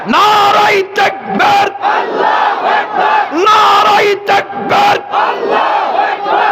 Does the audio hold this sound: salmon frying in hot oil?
no